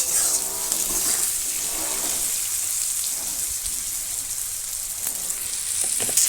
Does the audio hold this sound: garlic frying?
yes